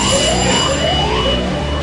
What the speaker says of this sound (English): And then they get the alarm, radiation in the control room.